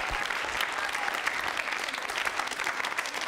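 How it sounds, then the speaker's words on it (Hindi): Audience applause at a university consumer-protection quiz show, dense and sustained clapping from a crowd at even loudness throughout. "जोरदार तालियां बजाओ।"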